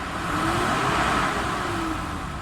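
A Mitsubishi Adventure engine runs at high idle while still cold, a close, loud, continuous drone with a slight swell in revs.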